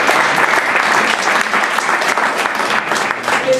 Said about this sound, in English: we should all just give a massive round of applause for Fatima.